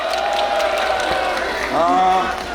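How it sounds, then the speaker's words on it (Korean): Applause and cheering from a crowd at a Suncheon political rally for candidate Lee Jae-myung, a steady broadband wash of clapping with a louder swell near the end, voices mixed in. "큰 박수 부탁드리겠습니다"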